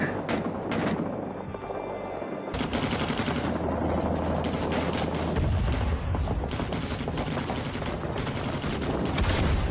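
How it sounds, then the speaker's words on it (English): Rapid automatic rifle fire sprayed into a forest in the Vietnam War shooter game Rising Storm 2: Vietnam, loud continuous crackling bursts with distant shots layered behind. "I'm just gonna shoot wildly into the forest."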